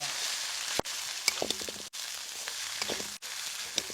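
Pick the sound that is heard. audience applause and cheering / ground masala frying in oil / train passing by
ground masala frying in oil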